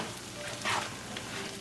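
Black pepper pork being stirred in a hot pan on a simmer, with a soft steady sizzle and a brief louder scrape of the stir midway, close and alone.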